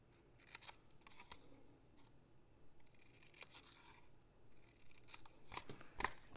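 Scissors snip tabs in a paper gift box on a punch board, giving short crisp cuts spaced irregularly, quiet and close, with soft rustling of the paper between snips.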